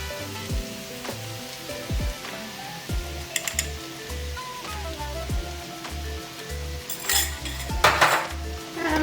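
Eggs cooking and being stirred in a pan alongside Maultaschen dumplings, with a low sizzle under repeated utensil clinks and scrapes against the pan, growing busier and louder near the end, with no speech.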